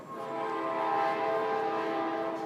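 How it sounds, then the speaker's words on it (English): A freight train passes close by with its horn sounding, a loud sustained tonal blare with layered harmonics holding steady throughout against rumbling rail noise. "That's my friend, the freight train."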